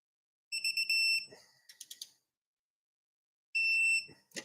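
Loud electronic alarm tones from a detector sound in two bursts separated by silence, with brief clicks and handling noises between them, during a Toyota 1MZ-FE plenum install.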